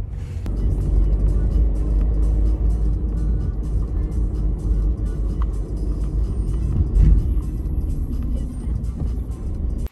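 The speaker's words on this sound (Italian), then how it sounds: "C'è pure un traffico per i miei standard infernale." Heavy city road traffic in Italy near Via Alpi, heard as a steady, loud low rumble of car engines and tyres throughout, with a slight swell near the end and no voices.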